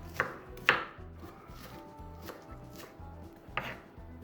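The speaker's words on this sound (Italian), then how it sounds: "tagliamo la cipolla" A knife chops onion on a cutting board while rosemary and garlic are prepped for pan-cooked rabbit with olives: a handful of sharp, separate close-up chops, irregularly spaced, over soft steady background music.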